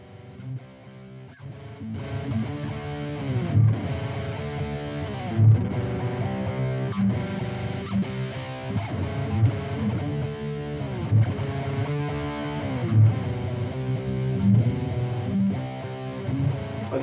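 Heavily distorted electric guitar through a Recti Stack amp model on a BOSS GT-1000 chugs through steady palm-muted riffs with rhythmic accents, loud and continuous, no voices.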